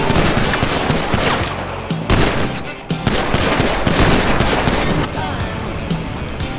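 Dense, loud, continuous gunfire rattles for several seconds in a Back to the Future fan film battle scene, a sustained barrage with voices mixed into the noise.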